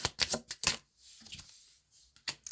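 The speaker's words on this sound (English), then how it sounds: "That World card is still at the bottom of the deck, even though I just shuffled." Tarot cards shuffled by hand in a few quick riffling bursts, close and crisp, with short pauses between them and no talking.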